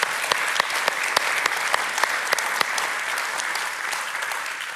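An academic-year opening audience applauds keynote speakers steadily, sharp individual claps standing out over a dense wash of clapping that gradually thins toward the end.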